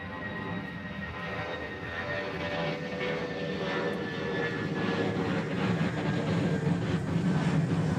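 An airplane departing Honolulu airport, a broad steady engine roar with a faint whine, building slightly louder toward the end, heard from a distance with no talking.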